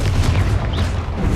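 A Confringo spell explosion in Hogwarts Legacy lands as a deep, heavy boom with a rumbling low tail lasting over a second, loud and alone.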